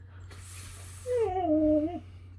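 A dog lets out a short, high whine that rises and trails off, close by, after a brief hiss of breath.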